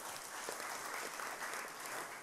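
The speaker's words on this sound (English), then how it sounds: "Give me a round of applause." A round of applause from a gathered group, a steady, even wash of many hands clapping, rather faint and distant, without a break.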